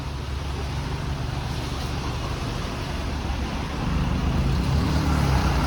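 A Nova Bus Hybrid city bus passes in traffic on a rainy Toronto avenue. A steady, loud, close engine and road rumble swells slightly near the end over wet traffic noise, with no talk.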